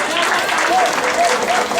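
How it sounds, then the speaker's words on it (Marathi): Applause from an audience at a village association anniversary gathering, a dense, steady clapping that fills the whole short stretch, loud and close. "एकदा जोरदार टाळ्या वाजल्या माझ्या सगळ्या माझ्या ताईंसाठी"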